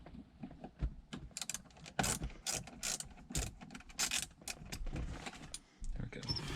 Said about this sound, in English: we're going to go ahead and remove the radio so we can get behind this and pry it out of there.